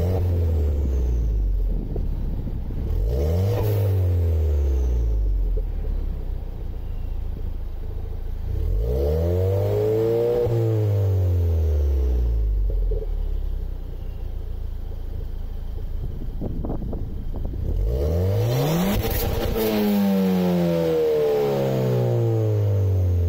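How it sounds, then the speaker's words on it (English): A Ford Fiesta ST's stock exhaust with a Milltek sports cat revs up and drops back several times, deep and throaty with rising and falling pitch, close and loud with no talking. "in this first clip we've got the stock exhaust with the Milltek sports cap."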